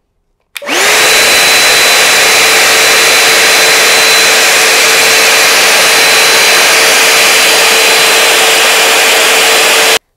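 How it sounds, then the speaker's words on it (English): A vacuum cleaner starts abruptly and runs continuously at a loud, steady whine while cleaning the rim of a SNOO bassinet, heard alone without talk. "You can take your vacuum and try to get as much as you can out"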